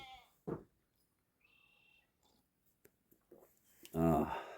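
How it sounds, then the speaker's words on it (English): Goats bleat loudly nearby, a short cry early on and a long wavering bleat near the end, with quiet gaps and faint sounds between. "as you can hear, the goats are also saying good morning"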